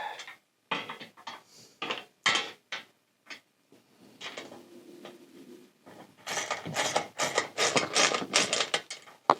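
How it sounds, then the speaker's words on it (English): A 10 mm ratchet clicks in quick, irregular bursts while bolts on a Toyota Landcruiser 100 Series are tightened, close and fairly loud, with a short steady tone partway through. "I'm going to use a 10 mil ratchet and spanner"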